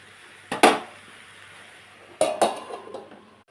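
A metal lid set onto a cooking pot gives two sharp clanks with short rattles, a pause between them, then settles; close and fairly loud in an otherwise quiet kitchen.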